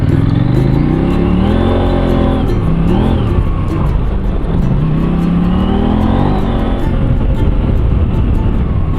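A motorcycle engine revs and falls repeatedly while riding a rough dirt road between Drake and Tenterfield in northern NSW, tyres slipping, loud and close with rising and falling pitch sweeps.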